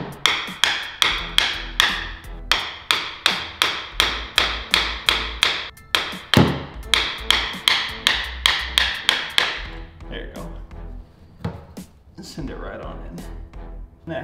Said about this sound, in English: you just get a flathead here, put it on, and get a trusty hammer